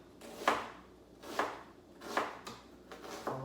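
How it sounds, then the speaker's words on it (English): Knife slicing thin horizontal cuts through an onion on a board, four crisp, evenly spaced chops with a soft slide before each, close and clear with no talk. "run my knife all the way through horizontally, getting some fairly thin"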